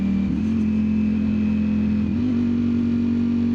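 A 2025 Ducati Streetfighter V4 S engine drones steadily at moderate revs, with a brief dip and pitch change partway through as it shifts down a gear.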